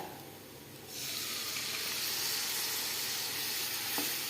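Water poured into a pan of frying chicken kondattam masala sets off a sudden loud sizzle that holds steady and close for several seconds, with a faint clink of utensil near the end.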